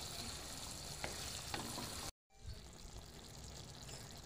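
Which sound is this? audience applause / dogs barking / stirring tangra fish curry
stirring tangra fish curry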